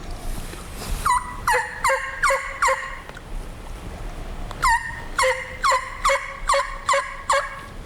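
A hunter works a raspy turkey call to imitate a gobbler's lengthened yelps. Two close, loud series of sharp rhythmic yelps are separated by a brief pause, with no talking.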